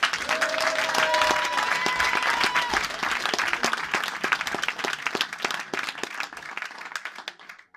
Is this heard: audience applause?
yes